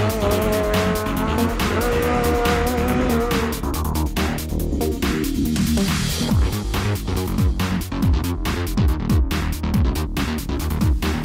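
A rally car drives away from a European Rally Championship event with a loud, continuous engine roar. The revs climb and drop through repeated gear changes, with some tire squeal.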